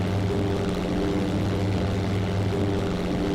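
A World War II propeller fighter's piston engine in European Air War drones steadily and loudly, a constant throbbing hum with no breaks and no voices.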